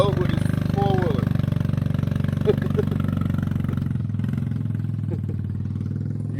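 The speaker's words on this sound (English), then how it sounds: "Pulling the boat with his four-wheeler." A four-wheeler engine chugs steadily at a low idle-like pitch while pulling a boat, with a continuous mechanical clatter running throughout and no pauses.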